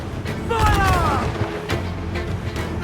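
Heavy ship cannons boom across an Assassin's Creed IV Black Flag sea battle. One loud volley rumbles with whistling shot overhead, then a second duller thud lands, and a voice is heard amid the battle noise.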